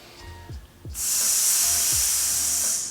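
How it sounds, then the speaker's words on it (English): A steady, loud breathy hiss starts about a second in and holds unbroken to the end, like air leaking from a tire, with a few faint soft sounds before it. "do a leaky tire breath."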